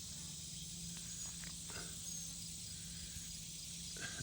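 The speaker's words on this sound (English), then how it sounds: "What's going on with this bee?" A bee buzzes faintly outdoors on a hot, humid, windless day, its soft intermittent hum sitting over a steady drone of insects and crickets.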